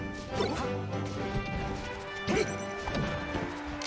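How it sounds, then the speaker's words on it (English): Loud game impacts from up smash attacks in a Super Smash Bros match, several sharp crashing hits spaced over a few seconds above continuous game music and noise. "These up smashes, any one of them could kill. One of them finally does."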